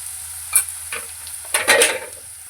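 Green chillies, onion, bay leaf and cloves fry in a pan with a soft sizzle, punctuated by a few scraping stirs, close and fairly quiet, with no talk.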